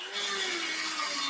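A Ferm Dremel rotary tool grinds steadily through wheelbarrow bolts with a continuous high whine and gritty abrasive hiss, close up and unbroken.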